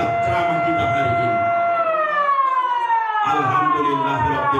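A siren is switched on at a Ramadan gathering in Rokan Hulu, Riau, and wails loudly and steadily, its tone sliding slowly downward with a faint voice beneath it.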